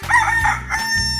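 A rooster crows once, loud and close, in a 3D animal sliding video game, the cock-a-doodle-doo ringing out alone with no talk over it.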